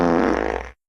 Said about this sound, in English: Oh my god, did you just fart?